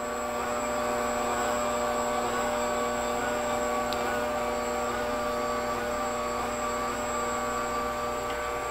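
An electric pasta machine rolls fettuccine dough, giving a steady, close mechanical whine with a constant motor hum that stays level from start to finish and has no other sounds over it.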